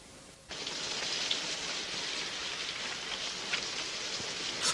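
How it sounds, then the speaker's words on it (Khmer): Steady rain with wind starts abruptly and holds as a dense, even hiss for several seconds, alone without voices. "ធ្លាក់ភ្លៀងធ្លាក់ខ្យល់បែបនេះ"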